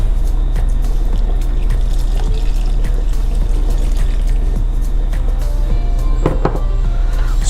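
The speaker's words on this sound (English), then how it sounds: "Now we're gonna add in the vegetable broth" Vegetable broth pours into a cooking pot in a steady, continuous stream, a close liquid rush that holds evenly throughout with a few brief splashy accents near the end and no talking.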